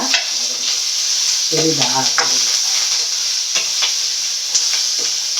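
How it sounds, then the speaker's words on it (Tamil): Ginger, garlic, curry leaves and shallots sautéing in a pan, a loud continuous sizzle with scraping stir strokes, while someone briefly speaks. "இப்போ வந்து இஞ்சி பூண்டு கருவேப்பிலை சின்ன வெங்காயம் எல்லாம் போட்டு வதக்கிறப்பா."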